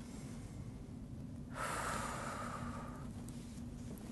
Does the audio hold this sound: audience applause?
no